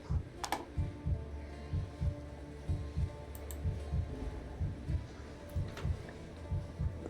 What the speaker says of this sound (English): You can hear the heartbeat, which I just think means my character's low on health